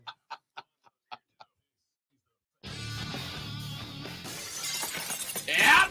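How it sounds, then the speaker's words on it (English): Glass shattering sound effect on a live sports talk show, arriving as a sudden loud crash with a cascade of scattered breaking and tinkling debris, preceded by a few short clucking bird-like blips and a stretch of silence. "break the glass because we got breaking news"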